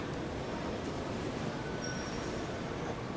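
A Stockholm commuter rail train rolls through T-Centralen station with a continuous heavy rumble, a brief high wheel squeal cutting in partway through.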